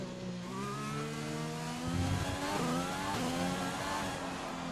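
Formula 1 car engine in the F1 2020 racing game, a loud steady high-pitched whine climbing through the revs with brief gear-change dips, sustained throughout.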